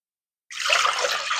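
Water pours steadily after half a second of silence, a continuous close splashing stream with no voices.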